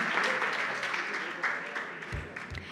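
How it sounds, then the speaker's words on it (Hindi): Audience applause for a dancer at an International Women's Day celebration on a business school campus, steady dense clapping from a crowd filling the room throughout, with a few thumps near the end. "इस बात पे एक बार कस के तालियां फॉर द लवली गर्ल"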